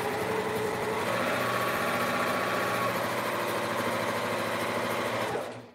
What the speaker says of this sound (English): I'm just going to sew my lining fabric together.